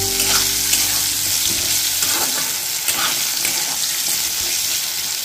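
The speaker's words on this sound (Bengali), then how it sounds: "এবারে এটা ভালো করে ফ্রাই করে নিচ্ছি।" Potatoes frying with turmeric in a pan for a jackfruit-prawn curry, loud close sizzling with stirring scrapes, a low hum fading early and a watery hiss running under it.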